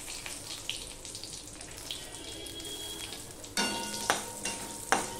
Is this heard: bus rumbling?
no